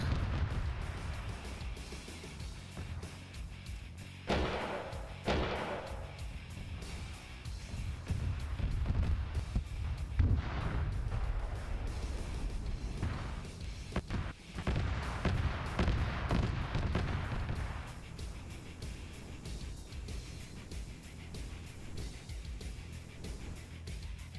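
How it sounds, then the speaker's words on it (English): Blaster cannons firing in a Warhammer 40K game, heavy booming blasts and rumbling explosions rolling over a dense low battlefield roar, with several sharper bursts in the middle. "that's one of the blaster cannons I had on the airfield."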